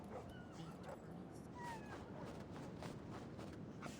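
Dogs in the video game Reverse 1999 sniffing and whimpering, with faint high whines and yips over a steady low game background; quiet throughout, no speech.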